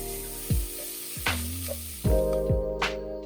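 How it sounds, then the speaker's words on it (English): Bacon sizzling in a pan over medium heat, a continuous crackling hiss close up, broken by several clunks and scrapes of stirring against the pan. "When frying bacon like this, make sure to use medium heat and have patience."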